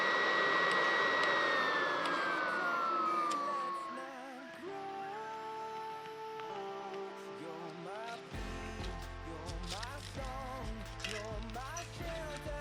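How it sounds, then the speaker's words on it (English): A small electric fan in a camping stove whirs with a high whine that winds down and drops in pitch, then continues more quietly under mixed clatter and shifting tones. "Putting the fan on 1 should help to ignite it."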